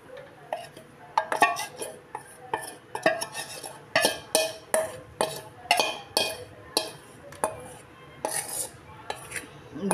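Spoon stirring jowar flour soaked in curd into boiling water, a steady run of rhythmic metallic scrapes and clinks against the pot, close and clear with no talking.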